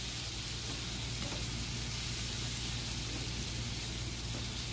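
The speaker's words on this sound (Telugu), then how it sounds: "నువ్వులైతే చూడండి ఫ్రెండ్స్ ఇట్లా పటాపటా పైకి వచ్చేస్తున్నాయి" Sesame seeds fry in hot oil while preparing hotel-style Mysore bonda, giving a dense, steady hiss close to the pan with faint scattered pops and no talking.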